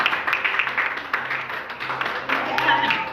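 A church congregation breaks into applause during a Spanish-language sermon, a dense patter of clapping that runs right under the preacher's continuing voice for the whole stretch.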